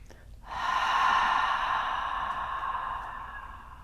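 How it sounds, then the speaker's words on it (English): One long, deep inhale through the nose during a Sun Salutation B yoga practice, drawn in sharply and then held steady, close and clear in a quiet room. "Let's take a full deep breath in to settle."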